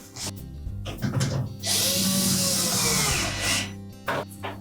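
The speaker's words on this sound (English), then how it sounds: "We'll secure the one screw on the left-hand side" A power drill drives a screw into a Whirlpool washer, starting with short taps and clicks, then a sustained whirring run of about two seconds, ending with a few brief bumps.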